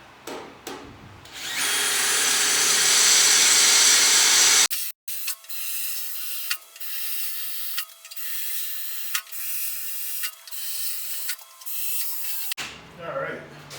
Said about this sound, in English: I'm going to do some pre-drilling in here for spot welds.